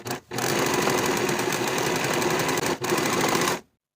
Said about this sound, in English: going to finish these raw edges together in a single series of stitches